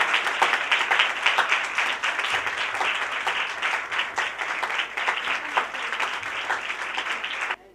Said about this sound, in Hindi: तो जोरदार तालियों में भाई यूसुफ को वेलकम करेंगे।